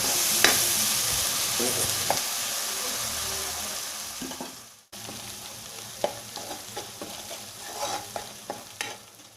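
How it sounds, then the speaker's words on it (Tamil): Onions sauté in a pan for mutton kurma, a loud hissing fry broken by a brief cut and then repeated scraping stir strokes against the pan over a lighter sizzle. "வெங்காயத்தை வந்து நல்லா பொன்னிறம் ஆகிற வரை நல்லா பொறுமையாக வதக்கி விட்டுருங்க."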